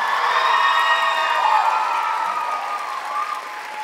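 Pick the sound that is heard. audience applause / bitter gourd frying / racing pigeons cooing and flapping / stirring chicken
audience applause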